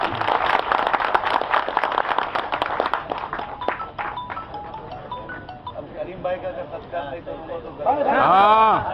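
A burst of lively clapping from the audience at a Diva Scrap Association meeting dies away after a few seconds, giving way to people talking and a louder vocal sound at the end.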